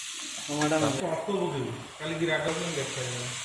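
Tomatoes sizzle in frying onion, ginger and garlic paste for a home-style egg curry, a steady close hiss running beneath a voice that talks over most of it.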